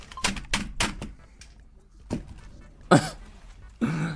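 Keyboard keys are struck hard during a Valorant session, several sharp loud clacks in an irregular burst, then a pause and a couple more heavy hits, close to the microphone.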